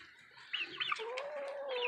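Several of 21 chickens cooped up together for days during a North Carolina snowstorm cluck and squawk in a quiet coop, a few short calls followed by a longer drawn-out note, all fairly faint.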